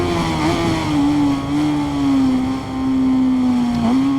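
BMW S1000RR sport bike with an Akrapovic exhaust in the Ride 5 racing game, a loud, steady high-revving engine tone that wavers slightly and dips briefly near the end, alone with no talk.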